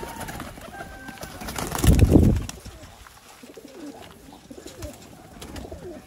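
Sialkoti teddy pigeons cooing, soft low coos scattered across the stretch with a brief louder burst of fluttering or handling noise near the middle.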